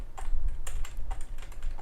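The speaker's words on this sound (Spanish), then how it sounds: "si pulso abajo, arriba en el teclado" Arrow keys on a computer keyboard are pressed in a quick series of sharp, close clicks, about eight taps at an uneven rhythm with no voices.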